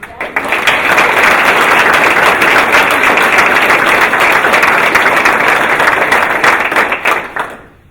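Guests at a military change-of-command ceremony clap in a full, even round of applause that holds steady before tapering off at the end, with some voices under the clapping.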